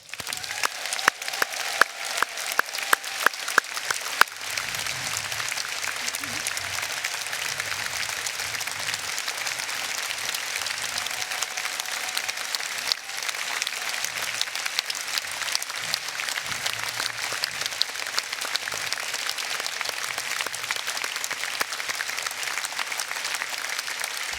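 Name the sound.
audience applause at a union rally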